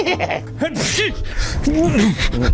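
A sudden sneeze bursts out amid lively, overlapping voices, close and loud, with talk continuing around it.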